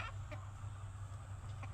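Free-range desi hens cluck softly at a distance, with brief clucks scattered over a low steady background hum.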